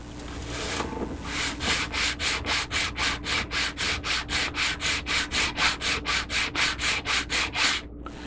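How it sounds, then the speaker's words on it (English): A kitbashed model piece being sanded by hand, heard as a close, rapid run of regular back-and-forth scratchy strokes, about twenty in a steady rhythm, after a brief rougher start, with no talking. "I'm going to sand this piece a little bit more at this end."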